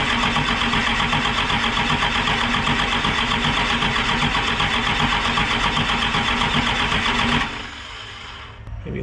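A 12-valve Cummins diesel swapped into a Ford OBS truck cranks loudly and steadily for about seven seconds, then cuts off, leaving a quieter low hum.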